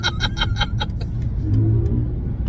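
A 2024 BMW i5 M60 in Oxide Grey accelerates under launch control with the synthetic Iconic Sounds drive tone, a rising electronic hum over road and cabin noise after a few short rhythmic pulses.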